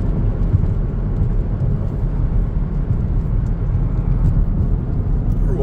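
A 2010 Chevrolet Camaro 2SS RS with a 6.2 LS3 V8 and a six-speed Hurst-shifted manual cruises hilly Wisconsin backcountry roads, its engine and road noise a loud, steady, close rumble from inside the car.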